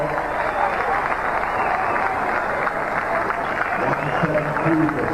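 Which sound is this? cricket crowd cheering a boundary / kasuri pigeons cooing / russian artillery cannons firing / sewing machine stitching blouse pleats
cricket crowd cheering a boundary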